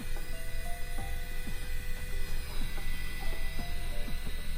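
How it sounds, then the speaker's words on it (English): An Opolar electric air duster blasts air at a piece of cardboard, giving a continuous whirring motor drone with a rattling, fluttering edge throughout, steady and close with no pauses. "this is another way of showing you how powerful the air blower is"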